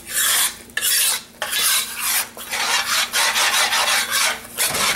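A Cajun roux stirred back and forth in a pot, giving loud, steady scraping rasps that swell and fade in a regular rhythm, close up, with no talking.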